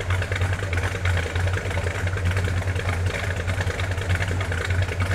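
Dodge Super Bee's big-block Mopar engine idles with a cackling exhaust, a continuous loud low rumble with choppy pulses, close up and with no voices.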